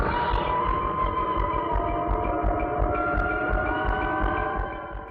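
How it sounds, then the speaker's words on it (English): The iconic siren from the original Alien film sounds in the Prometheus trailer as a loud, wavering electronic wail over a deep, pulsing throb, holding steady before fading slightly at the end. "The trailer's final act begins with the iconic siren from the original Alien film."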